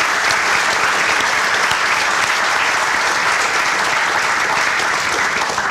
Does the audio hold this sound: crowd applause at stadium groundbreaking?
yes